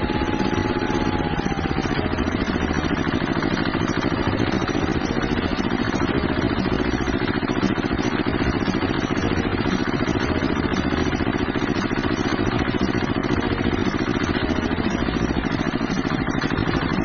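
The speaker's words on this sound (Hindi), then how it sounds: "मैं पहले ट्रैक्टर को साइड कर देता हूँ" A cartoon tractor engine runs on a toy farm, a steady rumbling, clattering drone at constant loudness with no change in pace, close and alone with no talking.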